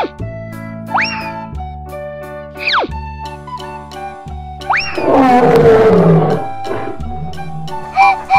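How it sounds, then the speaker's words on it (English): A tiger roars in a children's animal learning cartoon: one loud, rough, sustained growl rising in the middle, set among cartoon music with sliding whistle-like boing effects and tinkles. "tiger."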